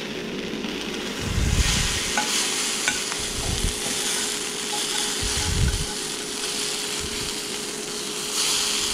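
Food sizzles in oil in a pan for a Southern breakfast, with a steady frying hiss throughout and several low scraping, thumping bursts as pieces are turned over with a utensil.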